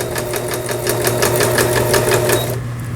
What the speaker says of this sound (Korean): 오버록 바느질이 나오고 있고요